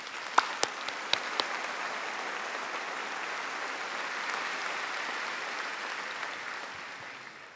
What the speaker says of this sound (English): Let's please have a round of applause for this special group of leaders.